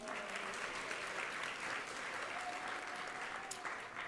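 An audience at an ISKCON New York fundraiser applauds a donor with steady, even clapping that stays level throughout, moderately loud with a faint tone in the background.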